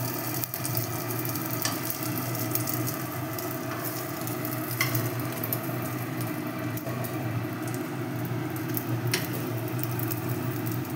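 Children's tiffin snack frying in a pan, a continuous close sizzle with occasional sharp pops and crackles, steady throughout with no talk.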